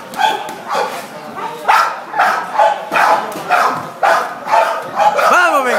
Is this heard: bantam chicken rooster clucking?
no